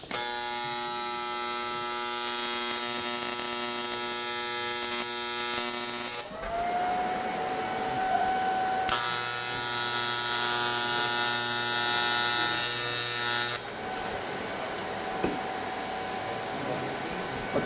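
TIG welding an aluminum elbow, a bright steady electric buzz that stops briefly partway through and then resumes for another long run before cutting out.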